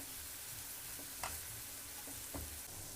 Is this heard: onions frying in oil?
yes